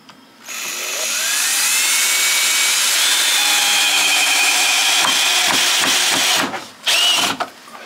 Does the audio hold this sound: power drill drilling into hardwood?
yes